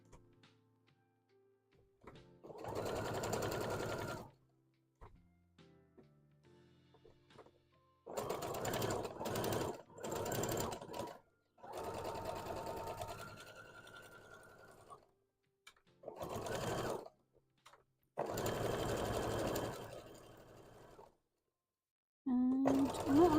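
Sewing machine stitching fabric for a plushie in bursts of several seconds each, loud and close, separated by short pauses with no talk.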